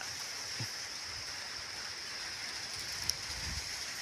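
Steady hiss of rain falling in northeastern Thailand (Isan), a continuous even wash of noise with faint low rumbles and a small click.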